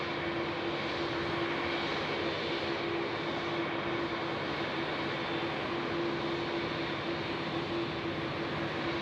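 Jet aircraft at Sydney Airport at night, a steady loud roar with a sustained whine heard from a distance, continuing unbroken throughout.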